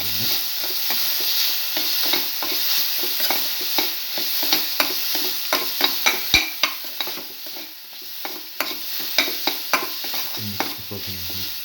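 Egg and coconut milk stir fry is stirred steadily in a pan, a fairly loud continuous sizzle cut by a rhythmic run of spatula scrapes and taps against the pan; no one speaks.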